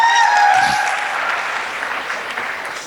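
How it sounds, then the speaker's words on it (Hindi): Loud applause from a crowd at a speech event, a dense burst of clapping that begins at full strength and then gradually softens, with a faint whistle-like tone near the start. "जोरदार तालियां हो जाएं सर आप सभी लोगों के लिए"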